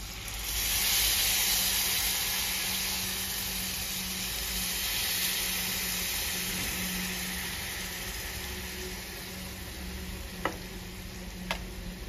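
Warm milk poured into a hot pan sizzles and hisses steadily, with faint stirring scrapes and a couple of sharp ticks near the end.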